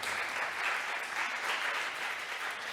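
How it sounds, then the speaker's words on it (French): Steady applause from a seated audience at a Paris conference on disability, a dense, even patter of many hands clapping throughout with no talking over it. "On peut vous applaudir"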